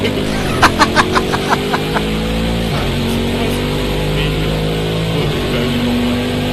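A loud, steady video game racing car engine drone with rising and falling pitch fills the clip, with a few brief sharp bursts near the start.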